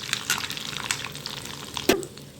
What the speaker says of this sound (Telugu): కరివేపాకు మొత్తం వేసేసుకుంటున్నాను